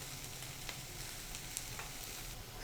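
Ivy gourd (dondakaya) fry sizzles quietly and evenly in a pan, a faint continuous crackle with a couple of small ticks and no voices.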